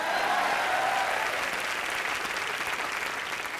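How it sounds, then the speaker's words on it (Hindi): A studio audience at a live television comedy show applauds steadily, a dense, loud wash of clapping that carries on throughout without a break. "ताली मारो"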